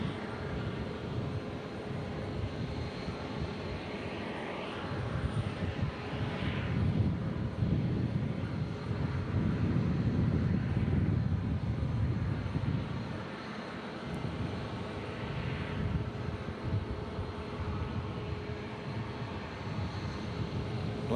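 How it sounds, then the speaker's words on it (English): A Southwest Airlines airliner landing on runway 18 at Omaha Eppley Field, a steady distant jet roar that swells and fades over the clip, heard alone from the airport perimeter. "Landing on runway 18, Southwest Airlines."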